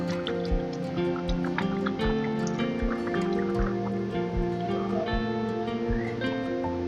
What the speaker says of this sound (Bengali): আর একটু ভালো করে ফুটিয়ে নেব।